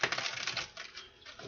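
A deck of tarot cards is shuffled close up, giving a soft, dense riffling crackle that fades and returns over a second and a half.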